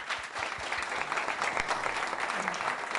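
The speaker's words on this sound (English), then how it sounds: "A big round of applause for the two gentlemen." An audience at a financial regulatory conference applauds two speakers, with dense, even clapping throughout and a faint voice underneath.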